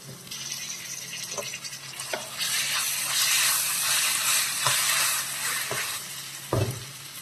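Onions with salt frying in a pan for a potato, brinjal and tomato curry, a steady close sizzle with occasional stirring clinks and scrapes.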